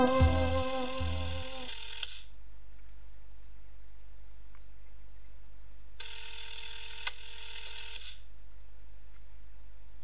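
A telephone ringing before going to voicemail, two electronic ring bursts separated by a long silent gap, clear and alone over a faint low hum.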